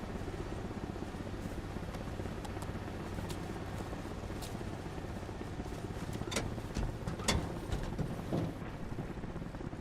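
An Apache attack helicopter in a combat video game drones steadily at a distance, a continuous rotor hum with faint scattered clicks and thumps, with no talking.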